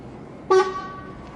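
A single short horn blast, loud and close, with a strong tonal blare that fades quickly into steady background rumble.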